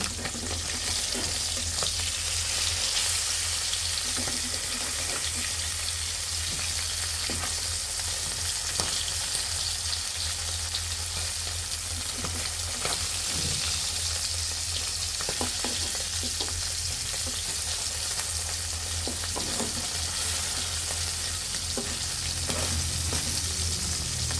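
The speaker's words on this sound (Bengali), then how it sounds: "আমরা এপিট ওপিট ভালোভাবে ভেজে নেব মাছটি" Large sarpunti fish, three at a time, fry in a pan of oil with a loud, dense, continuous sizzle and occasional faint spatters, no voices.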